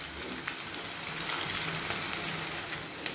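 Onions for Hyderabadi chicken dum biryani fry in hot oil with a steady, dense crackling sizzle, close and continuous throughout, without speech.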